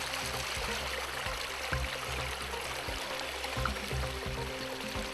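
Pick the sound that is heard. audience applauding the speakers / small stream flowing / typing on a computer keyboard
small stream flowing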